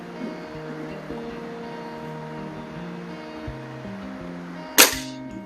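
One sharp crack from a BSA Meteor Super air rifle firing an 8.2-grain H&N Sport pellet over a chronograph rings out near the end, set against a steady background hum.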